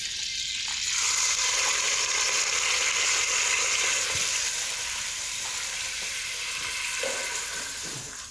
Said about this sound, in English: So sweat the onions.